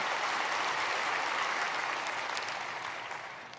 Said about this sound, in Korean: 귀한 찬양으로 은혜를 주신 우리 겟세마네 찬양대에게 뜨거운 감사 박수 한번 주시기를 바랍니다